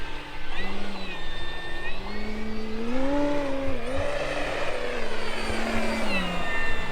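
A small engine whines steadily, its pitch gliding up and down as a large E-flite T-28 Carbon-Z radio-controlled model plane flies overhead at moderate distance, with no talking.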